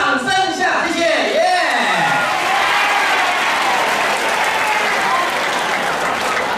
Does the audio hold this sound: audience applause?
yes